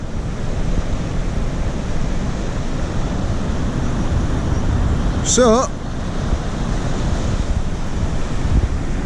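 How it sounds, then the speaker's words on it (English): Sea waves washing onto the beach at Sandsend on an early morning, a steady broad roar of surf mixed with wind buffeting the microphone, with a brief whistle-like sound midway and a single spoken word. "The waves are still coming in."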